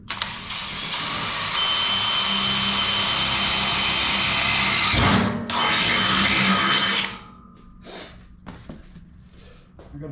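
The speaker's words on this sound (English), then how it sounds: "I gotta be careful right there. I don't want to drill through that." A power drill whines loudly and continuously as it bores into the metal of a Generac GP5500 generator with a dull bit, pausing briefly near the middle, then stopping, followed by a few light clanks.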